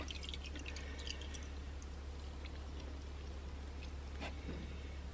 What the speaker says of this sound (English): I'm fixing to take this drain plug out of this CVT, drain this fluid out.